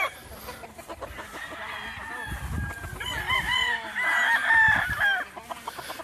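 A gamecock rooster crows loudly on a breeding farm in Oklahoma, a drawn-out call rising and falling over a few seconds, with other fowl clucking and someone speaking softly in the background.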